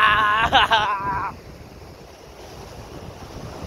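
Sea waves wash and rush steadily in the background under a brief burst of someone's voice at the start, with wind noise throughout.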